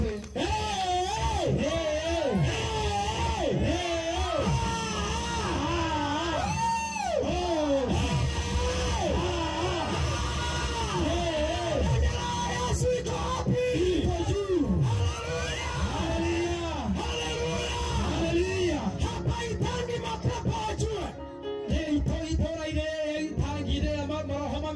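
A church congregation at an evangelistic mission crusade cheers for Jesus, a loud sustained swell of whoops, yells and raised voices carrying on for the whole stretch, with some clapping in the mix.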